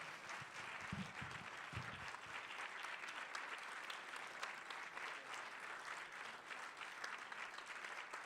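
Audience applause for the two lead actresses of the film Beyond the Hills at a Making Waves screening Q&A: dense, steady clapping from a full room throughout, fairly faint and distant.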